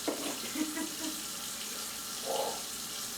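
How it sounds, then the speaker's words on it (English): Cold water runs from a kitchen sink tap in a steady, fairly faint hiss, with a few brief splashes against the basin while cooking goes on. "put on a little bit of cold water"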